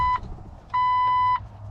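Two electronic beeps from a Jeep Wrangler TJ key buzzer sound, a short one then a longer steady tone, clear and close against a quiet low hum.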